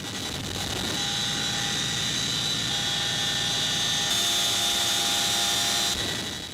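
A military helicopter climbing toward about 3,000 m above ground with parachutists aboard makes a loud, unbroken engine and rotor drone with a steady whine, heard close from inside the aircraft.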